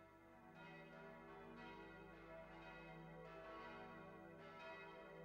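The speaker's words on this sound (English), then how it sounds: "A Paris where the bells of Notre Dame still pealed out" Church bells of Notre Dame peal continuously in a PS1 video game, a dense ringing chorus of overlapping bell strikes swelling several times over a steady low drone, loud and without speech.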